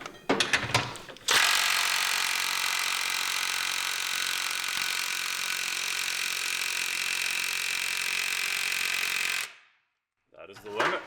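A cheap Amazon impact wrench works on semi truck lug nuts, giving a loud, continuous hammering whir that runs about eight seconds after brief bursts and voices, then cuts off into silence before a short final burst.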